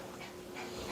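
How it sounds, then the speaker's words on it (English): A pet dog pants steadily in the background of a home kitchen during cooking, one second of continuous breathy huffing with no talk. "If you hear panting in the background, it's my dog."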